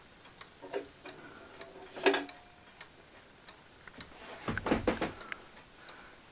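A chiming mantel clock with a weight chain stuck inside ticks in faint, uneven clicks, with a few louder knocks and rattles mixed in; no voices.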